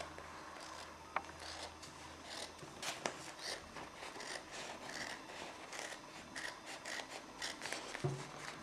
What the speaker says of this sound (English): I take the scissors, okay, and I cut the extra fabric.